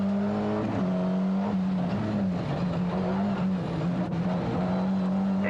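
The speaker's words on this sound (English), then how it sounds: "Yves Loubet drives Dieter Depping's Sierra, but brake problems for him with this car" A Ford Sierra rally car with brake problems drives a French rally stage, its engine droning at a steady loud pitch with shifting revs, heard continuously from on board.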